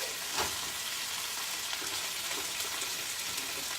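A keto cheesy sausage melt crisps in a pan, a steady dense sizzle of frying fat running throughout at an even, close level with a few soft stirring pops and no talk.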